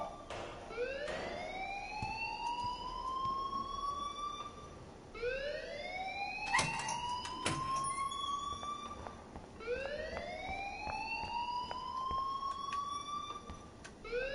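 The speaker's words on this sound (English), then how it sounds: "please turn off that alarm since that's your job" An alarm siren in Life Is Strange wails in three long rising sweeps, steady and loud with brief sharp clicks between, no speech over it.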